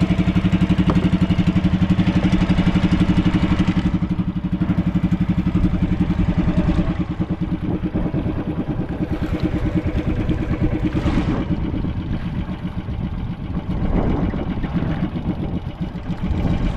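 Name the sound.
boat engine started to turn the boat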